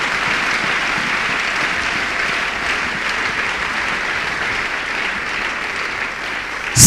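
A church congregation breaks into sustained, even applause, a loud steady wash of many hands clapping together without letup from start to finish.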